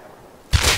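A single sharp gunshot bursts out suddenly in a first-person video game shooter, loud and close after a quiet lead-in, with no talking over it.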